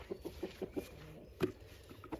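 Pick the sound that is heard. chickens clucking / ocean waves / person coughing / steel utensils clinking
chickens clucking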